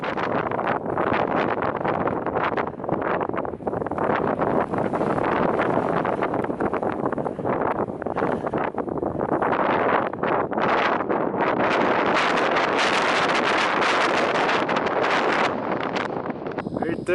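Strong wind blusters across the microphone outdoors near Jackson Peak and the Tetons on a chilly day, a loud, continuous roar with uneven gusts throughout.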